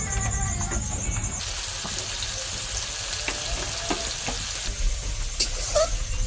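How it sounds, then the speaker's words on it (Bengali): Sliced onion and green chilli sizzle in a wok of oil left over from frying fish, a continuous close crackling hiss with scattered small pops and light stirring clicks. "মাছ ভাজার পরে ওই যে কড়াই তেল ছিল, সেই তেলে পেঁয়াজ কাঁচা লঙ্কা দিয়ে দিয়েছি"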